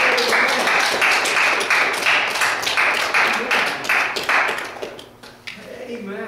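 A church congregation claps together in worship, a dense run of rapid overlapping claps that carries on loudly before thinning out and fading near the end.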